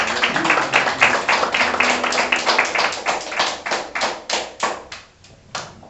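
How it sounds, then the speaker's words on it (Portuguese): A church congregation claps together for several seconds in a rhythmic round of applause for Jesus, sharp, close hand claps that thin out and fade near the end. "Dá uma salva de palmas para Jesus"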